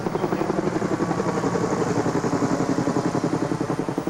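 Helicopters passing over the Champs-Élysées military parade in Paris, a steady loud rotor chop with a rapid regular beat that holds throughout, no talk.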